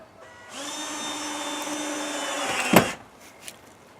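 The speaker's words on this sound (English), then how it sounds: "I'll go ahead and screw the support piece on" A power drill driving screws to fasten a support piece onto a wooden shed door, a steady close whir that runs for a couple of seconds, ends in a sharp clunk, then falls to quiet.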